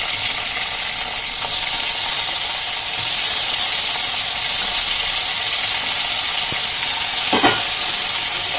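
Pumpkin pieces frying in mustard oil with black cumin seeds, a loud, steady close sizzle with occasional scraping stirs of a spatula in the pan, no talking.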